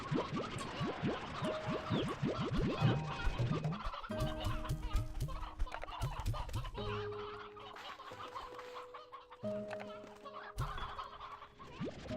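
Video game chickens cluck and squawk repeatedly in short choppy bursts, joined by scratchy effects and steady tonal in-game notes, fairly close and without talk.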